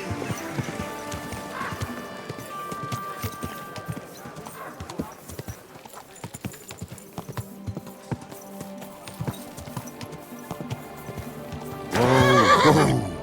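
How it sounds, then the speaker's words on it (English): A horse in the medieval game Kingdom Come Deliverance 2, hooves clip-clopping steadily alongside spoken voices, with a long neigh near the start and a loud burst of whinnying toward the end. "Easy, good horse."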